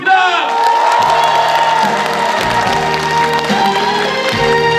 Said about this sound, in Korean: 정말 수고했다고 하면 큰 박수 한번 보내주십시오.